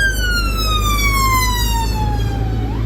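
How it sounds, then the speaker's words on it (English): A UK police siren wails loud and close over road rumble, its rising tone sliding steadily downward as the vehicle passes by, with no talk. "wait for the sirens."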